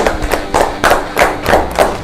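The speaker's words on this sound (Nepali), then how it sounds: "ल एकचोटि ताली बजाऊँ" An audience on a dating show claps for Devendra's entry. The clapping comes in loud, rhythmic close bursts that rise and fall in waves, with no speech over it.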